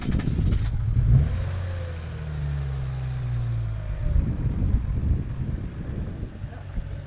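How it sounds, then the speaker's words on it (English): A Subaru GC8 swapped with a 3.6R flat-six engine revs up and falls back, its rising and sliding engine note mixed with wind noise, while people talk nearby. "it definitely has a 6-cylinder sound that is very unique to this car"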